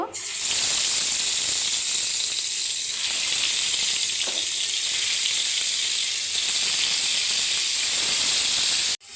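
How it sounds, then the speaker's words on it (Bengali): Aair fish frying in hot oil, a dense, loud, unbroken hissing sizzle that holds steady throughout and cuts off abruptly at the end. "এবার আমি তেলে ভেজে নিব।"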